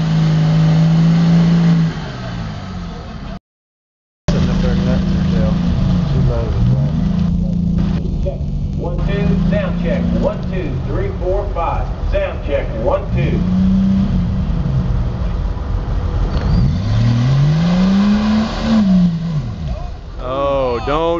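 A loud mud bog truck engine roars and revs repeatedly at a mud bog event in Baytown, Texas, pitch rising and falling in long surges, with voices talking over it and a brief dropout.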